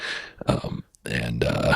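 A short, low guttural burp close to the microphone, with brief vocal sounds around it.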